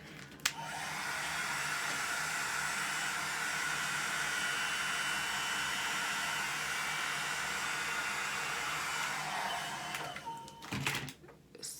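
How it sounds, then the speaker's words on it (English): A hair dryer blows on hair for about ten seconds, a steady close hiss with a faint hum, then clicks off and is followed by a few handling bumps, with no talking. "So, let me blow dry this."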